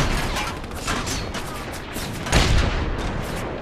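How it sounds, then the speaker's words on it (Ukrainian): Sustained gunfire from The Saboteur video game, a dense continuous rattle of shots that stays loud across the whole stretch and swells briefly near the end, with no talk over it. "Якийсь кулемет там був чи що?"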